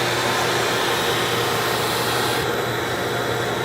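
A buffing wheel polishing a briar pipe during a timed pipe-making contest gives a loud, steady motor whir with a low hum, unbroken for several seconds and heard alone.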